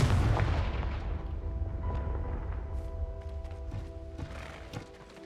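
Confringo fire spell cast in the Hogwarts Legacy video game, a loud explosive blast at the start followed by crackling booms and hoofbeat-like game effects that fade over several seconds.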